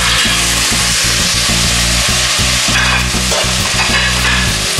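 Mussels sautéing in olive oil with vegetables in a hot pan, giving a steady loud sizzle and frying hiss with stirring scrapes throughout, and no talking.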